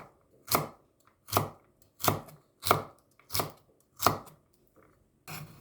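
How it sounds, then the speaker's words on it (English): A knife chops a carrot into cubes on a cutting board, about seven crisp, evenly spaced thuds close up, with a quiet pause before a last, denser cut. "Have 1 piece of carrots and cut into cubes."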